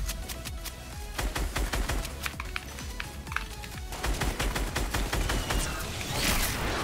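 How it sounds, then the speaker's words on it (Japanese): Rapid automatic gunfire and explosive blasts in an online shooter match, including rocket launcher fire, dense and continuous for several seconds with overlapping bursts and no talking. "あの人ロケラン撃ってる"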